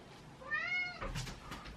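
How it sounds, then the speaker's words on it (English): A house cat meows at a bedroom door, giving one clear, rising and falling cry close by, followed by faint rustling. "The cat is crying."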